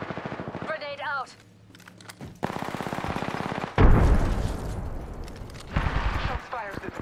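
Apex Legends gunfire rattles in rapid automatic bursts and a grenade goes off with a loud close blast, with in-game voice callouts breaking in.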